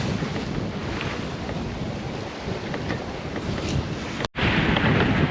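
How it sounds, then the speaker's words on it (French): Steady roar of wind and rushing waves at sea aboard a sailboat, with heavy wind buffeting on the microphone and a brief dropout near the end. "les vagues deviennent trop importantes par rapport à la puissance du vent"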